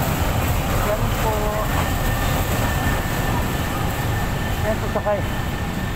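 A train pulls into a station in Manila, its steady rumble and hiss filling the background beneath a voice speaking throughout, with a faint tonal whine from the rail car running through.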